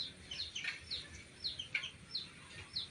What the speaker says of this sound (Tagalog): Ito, pakain muna tayo ng manok.